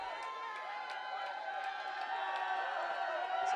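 A large crowd in the cement stands at a men's college water polo game against USC creates a steady, dense murmur of voices and scattered shouts that slowly swells louder.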